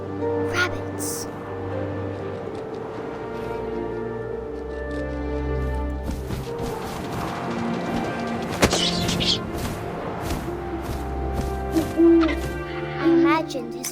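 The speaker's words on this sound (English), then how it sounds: "And suddenly, I was an owl." Owl hoots in the What Remains of Edith Finch video game, repeated calls set among wind and ambient game sound, with a narrator's voice talking throughout.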